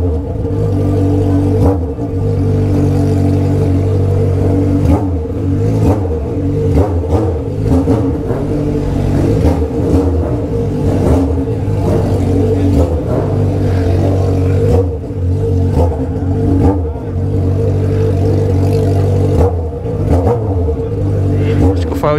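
Motorcycles, Honda Hornet street bikes among them, rumble and rev at a street bike meetup at a gas station, loud and close with repeated throttle blips over a constant engine drone.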